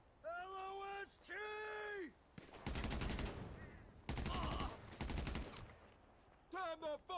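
Bursts of automatic gunfire in the video game GTA 5 Online rattle loud and rapid in several volleys, with players shouting between the shots.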